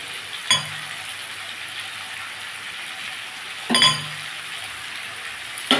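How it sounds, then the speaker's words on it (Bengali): Potato and pumpkin pieces frying in a pan with ground cumin, a soft continuous sizzle broken by two brief louder stirring bursts, close and without talk. "আমি এটাকে ভালো করে ভাজবো দেখুন বন্ধুরা আমার আলু কুমড়োটা ভাজা হয়ে গেছে"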